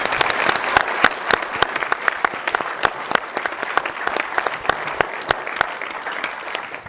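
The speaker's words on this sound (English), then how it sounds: "let's give a round of applause to those event sponsors" An audience at a democracy event applauds the event sponsors, a loud, sustained round of clapping with sharp individual claps standing out from the crowd.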